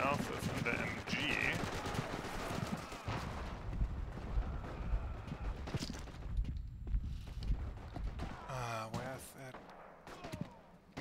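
Machine gun bursts and scattered gunfire in the Forgotten Hope 2 multiplayer battle on the Tunis map, rapid broken volleys over steady battle noise, with a voice talking over part of it.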